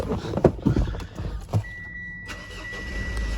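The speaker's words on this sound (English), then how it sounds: "we're going to start this car up because it is bloody hot" A 2017 Mitsubishi Pajero Sport is started close by: a short crank and a catch, then the engine settles into a low, quiet idle with a faint steady whine above it.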